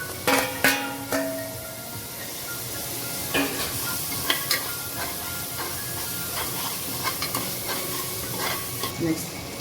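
Tomato sizzles in a hot pan for chicken kurma, a continuous frying hiss broken by scraping stirs and clinks of a spoon against the pan, close up with no voices.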